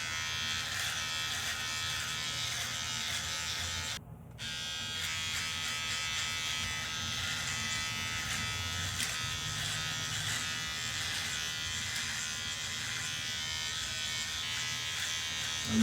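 An electric beard trimmer buzzes continuously at close range while trimming a beard, a steady high motor hum with one brief dropout partway through.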